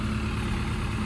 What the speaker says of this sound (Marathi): tractor yellow tractor